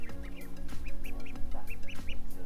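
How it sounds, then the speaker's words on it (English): Ducks and chickens at a petting zoo, with repeated close quacks and clucks in a steady, busy rhythm, several birds calling over one another with little pause. "But it's fun playing with the chickens and ducks for sure."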